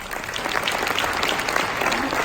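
A live audience applauds a group of young people with a dense, steady clapping that fills the whole stretch at even loudness, no voices rising above it.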